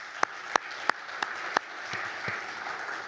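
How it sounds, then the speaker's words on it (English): A conference audience applauds after a maritime transport efficiency session, opening with a few sharp, separate claps that quickly blend into a steady wash of clapping for the rest of the moment. "I think deserves a big applause for all the work."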